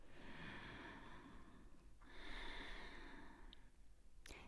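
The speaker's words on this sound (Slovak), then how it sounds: "pošleme tam hlboký nádych a výdych" A deep, slow breath during a hatha yoga stretch, a long breathy inhale then exhale, soft and close with a hiss of air and no talk.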